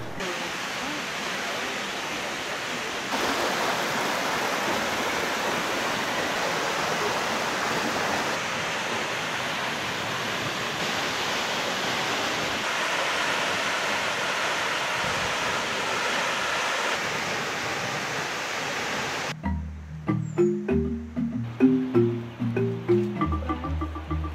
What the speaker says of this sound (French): Dans un joli décor, la chute d'eau tombe de 68 mètres.